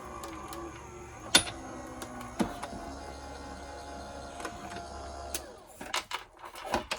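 An electronic cutting machine working through tulle and organza, a faint mechanical whir with soft intermittent clicks and movements, fairly quiet and without talk.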